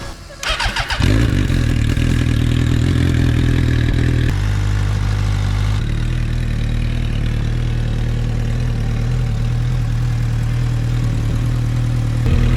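A Predator ATV fitted with a Suzuki GSX-R 750 engine cranks and catches, then settles into a loud, steady, throaty run close by, with slight shifts in engine pitch along the way.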